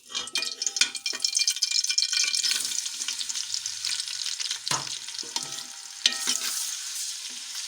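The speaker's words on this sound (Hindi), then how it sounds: "इसमें हम प्याज डाल देंगे।" Onions fry in hot oil in a pan, a steady close sizzle with stirring scrapes and a few sharper clatters throughout, no voices.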